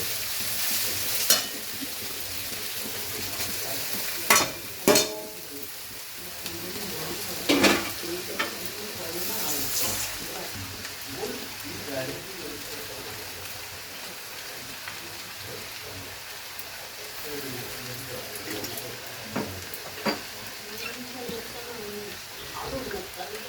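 Rice with egg and chicken is stir-fried with soy, chili and tomato sauces, making a continuous sizzle with repeated scraping and stirring strokes from a spatula, while a voice murmurs faintly in the background.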